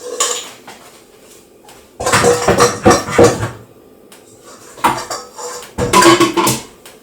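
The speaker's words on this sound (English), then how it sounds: "Also, tapping the spoon in the bowl" A spoon tapped against a bowl, with bursts of rapid, loud, close clinking that come in three clusters separated by quieter pauses.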